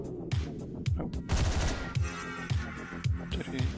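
Rapid gunfire in Hotline Miami, a string of punchy shots repeating about every half second, loud and dense against game background sound.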